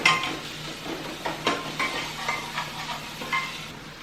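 Masala frying in a pan with tomatoes and two chopped green chilies, a soft sizzle under repeated scraping and clinking of a spoon stirring against the pan, close and moderately loud, with no talking.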